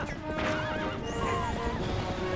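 A horse in the video game The Legend of Zelda: Twilight Princess HD lets out a clear, wavering whinny close by, with a couple of rising and falling calls over a low rumble of movement.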